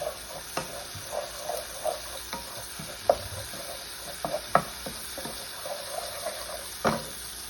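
Garlic frying in a pan for a no-sodium cabbage chicken dish gives a soft, steady sizzle, broken by a few sharp clicks and scrapes of stirring, close by and without speech.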